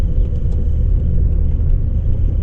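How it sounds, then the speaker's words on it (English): Audi S6 C5 with a 4.2 V8 rolling over speed humps, heard from inside as a steady, loud low-frequency road and engine rumble with no talking. "even now I'm driving a bit over the speed humps, and it's not the most comfortable drive"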